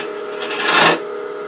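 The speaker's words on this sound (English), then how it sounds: "Use a conventional bowl scraper." Conventional bowl scraper cutting Australian mallee burl on a wood lathe, a short raspy scraping swell over the lathe's steady hum, close and fairly loud.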